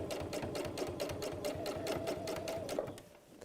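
Sewing machine fitted with a jeans needle stitching through really stiff interfacing: a rapid, steady mechanical chatter at close range for about three seconds, slowing and stopping at the end.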